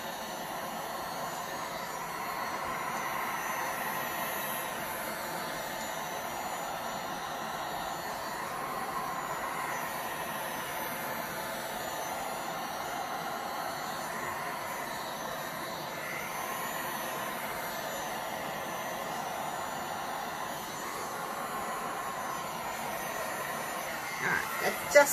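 A heat tool blows hot air over yellow and orange paint on a 3D resin flower coaster, making a quiet, steady airy whoosh that runs unbroken, with a couple of small clicks at the very end.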